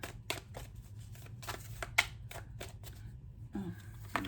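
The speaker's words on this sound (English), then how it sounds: "Two more shuffles." Several crisp tarot card riffles and taps in a quick series, close by, with a faint low hum underneath.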